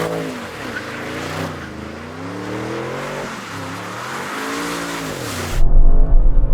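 An Audi RS7 Performance being pushed into a drift, its engine note rising and falling in loud revving sweeps with tire squeal, then a sudden shift to heavy rumbling wind noise near the end.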